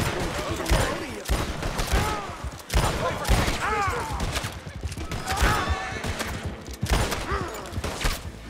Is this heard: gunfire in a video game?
yes